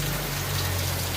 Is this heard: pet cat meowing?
no